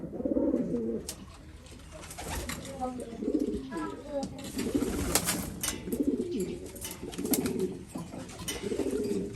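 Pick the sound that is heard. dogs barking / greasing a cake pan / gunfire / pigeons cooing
pigeons cooing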